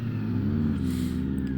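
A motorcycle engine runs close by as the quick shifter's auto blip briefly lifts the revs, a short steady drone with a slight rise.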